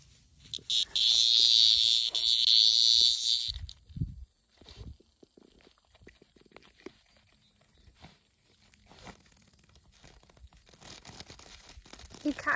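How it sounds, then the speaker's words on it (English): A cicada caught by a pet raccoon gives a loud, shrill, continuous buzz for about three seconds, then goes quiet, leaving soft rustling and handling noises close by. "He caught himself a cicada."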